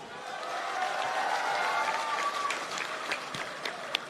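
Applause from an audience at a rally, a dense patter of clapping that swells and then thins, a few sharper claps standing out near the end.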